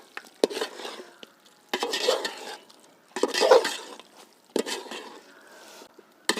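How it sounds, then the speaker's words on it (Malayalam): Gravy being stirred in a pan after lemon juice and chopped coriander leaves are added, with several bursts of scraping and stirring separated by brief pauses, close and fairly loud, over a faint sizzle. "ഇനി നന്നായിട്ട് ഒന്ന് മിക്സ് ചെയ്ത് കൊടുക്കാം."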